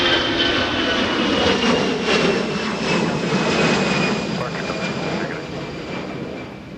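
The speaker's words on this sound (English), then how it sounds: "as we have a departing Delta Airbus" A departing Delta Airbus jet airliner at Minneapolis–St. Paul Airport gives a loud, sustained engine roar with a whining tone that slowly fades as it moves away.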